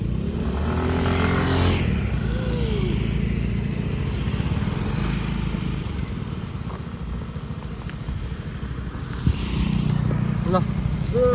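A motorcycle being ridden and then parked gives a steady, close engine rumble running throughout, with a brief knock near the end, while people talk over it.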